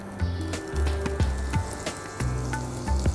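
Cumin seeds and chilies sizzle as they hit hot oil while cooking vada kari, a loud, close, steady frying crackle that carries right through with no one speaking.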